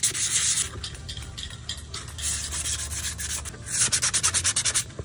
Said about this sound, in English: Now the sanding begins.